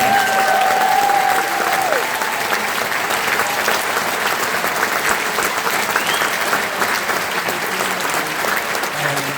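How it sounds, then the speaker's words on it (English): An audience at a thank-you event breaks into sustained applause, a dense wash of many hands clapping that carries on evenly for several seconds, with a few faint tonal sounds briefly audible near the start. "a round of applause for Peter"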